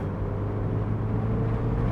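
A 2007 Mazda MX-5 roadster's engine hums steadily as it is driven, a low, even drone with a rumbling undertone heard from inside the car, with no talking.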